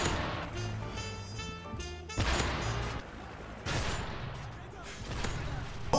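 M16 gunfire rings out in a Call of Duty MW3 match, with several loud bursts of close shots over game music and effects, and a player talking excitedly over the action.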